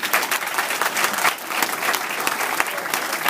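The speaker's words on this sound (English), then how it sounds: "You need to give them a round of applause right now." A crowd at an event applauds the parents in attendance, a loud, continuous burst of many hands clapping at close range, thick and even throughout.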